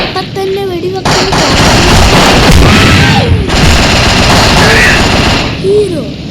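Rapid gunfire from the mobile shooter game Mini Militia, loud and continuous bursts filling the whole stretch, with game sounds and some voice-like tones mixed in.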